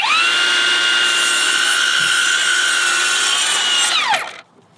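Metabo HPT dual bevel miter saw making a 45° miter cut through 2x6 scrap wood, a loud steady high whine of the blade through the cut, then the pitch drops sharply as it spins down and stops.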